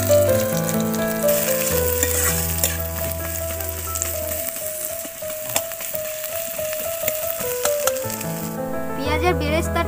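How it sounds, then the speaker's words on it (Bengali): Onions frying in white oil in a wok for birista, a steady sizzle running under loud background music with tonal notes throughout. "কড়াইতে আমি সাদা তেল দিয়ে দিয়েছি। এবারে আমি পেঁয়াজের বেরেস্তাটা করে নেব।"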